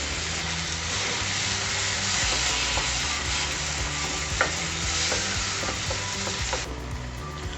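Ground puree of two or three medium tomatoes sizzling loudly in a hot pan of masala for a dhaba-style paneer masala, a steady dense fry with occasional scrapes and stirs of a spoon.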